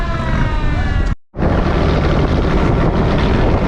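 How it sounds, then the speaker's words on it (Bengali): A large trawler's engine roars loud and close on the Jamuna River near Aricha ghat, a steady broadband rumble broken by a brief dropout before resuming. "এই যে একটি বড় ট্রলার চলে যাচ্ছে সামনের দিকে।"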